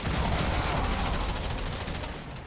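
Sustained, dense automatic gunfire in the sci-fi shooter Warframe, a continuous loud barrage of rapid shots running the whole stretch without pause or reloading, tapering slightly at the very end.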